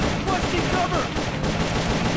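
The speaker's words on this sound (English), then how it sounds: "I can't really hear you over the gunfire." Dense, continuous gunfire roars without a break through a firefight in the Metal Gear Solid Peace Walker video game, a steady wall of noise with no clear pauses.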